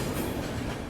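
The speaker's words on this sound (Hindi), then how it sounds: "वाराणसी दिल्ली महामना एक्सप्रेस के रेक।" A Varanasi–Delhi Mahamana Express train rake rolls past nearby with a loud, continuous rumble and rail clatter, no voices over it.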